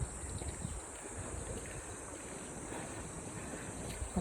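A swollen river with high water after rain flows steadily as a broad, continuous rushing wash, mixed with wind buffeting the microphone, with no voices.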